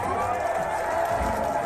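Movie theater audience shouting and cheering together, a steady dense crowd roar with scattered whoops, loud and continuous throughout.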